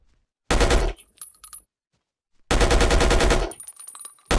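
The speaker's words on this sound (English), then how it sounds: "Now we'll use this machine gun to suppress the Croat forces." Machine gun fire in the Battlefield Yugoslavia game: two loud, rapid bursts about two seconds apart, each lasting roughly a second, with short metallic clinks and rattles after each burst.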